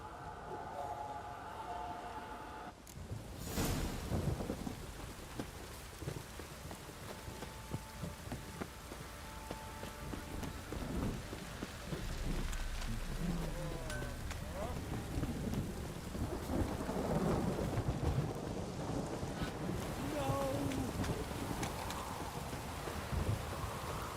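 Steady rain falls throughout with rolling rumbles of thunder, a sharp crack early on, and faint voices and movement mixed into the storm, in the video game The Witcher 3.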